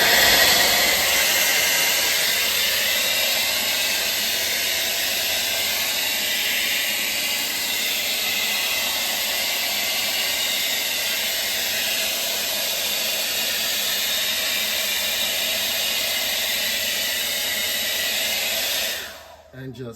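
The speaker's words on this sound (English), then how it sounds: "Now it's time for your blow dryer use. Switch it on to hot" A blow dryer set to hot runs continuously inside a Kenmore Elite refrigerator to melt ice, a loud steady rushing hiss that holds for nearly twenty seconds before cutting off abruptly.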